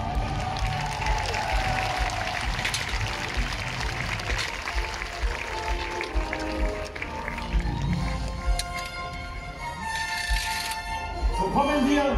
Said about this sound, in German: Sofort jubeln und gebt mir Handgeklapper!